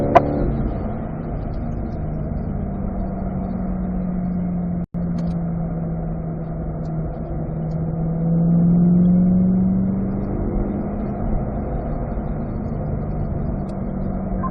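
A Corvette engine drones steadily at speed on a race track, with one abrupt momentary cut and a swelling note near the end, heard from inside the car with no talk.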